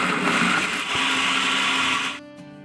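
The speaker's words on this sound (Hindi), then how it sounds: "और ये देखें हरी मिर्ची और प्याज चॉप हो गए अच्छी तरह।" An electric chopper whirs loudly and steadily as it chops onions and green chillies, then winds down and stops near the end.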